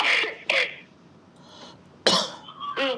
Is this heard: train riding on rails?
no